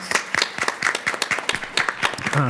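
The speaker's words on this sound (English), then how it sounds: "give her a huge round of applause" A short burst of clapping from a small group at a board meeting, quick irregular claps filling the moment before a voice starts at the very end.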